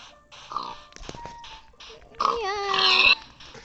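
Pig oinking in the Minecraft video game: several short grunting snorts spread across the clip, the loudest burst near the end, fairly close and clear with no talk over it.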